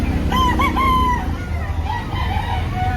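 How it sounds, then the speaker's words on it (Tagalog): Chickens cluck and a rooster crows over a low, rumbling background, the bird calls rising and falling through the clip. "Marami silang manok."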